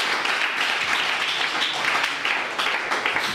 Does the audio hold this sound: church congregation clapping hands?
yes